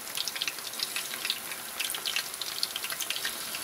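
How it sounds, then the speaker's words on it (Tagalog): Calamari-style pieces frying in a pan for a Nonya sambal, a steady close crackle and hiss of hot oil, with bright spitting pops running throughout and no voices. "I-fry lang nyo naman siguro kasi parang calamari style lang siya."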